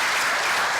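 A round of applause from an audience at a water technology event fills the whole moment, a dense, steady wash of clapping with no voices over it.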